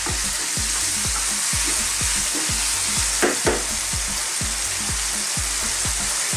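Extra-hot chicken curry sizzles and fries in a pan, a dense hiss broken by regular scraping strokes of a spoon stirring it, close and steady throughout.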